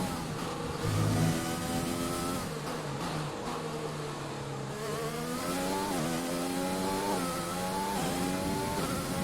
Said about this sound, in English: Now the engine's excited and happy again because it's got fuel running through it.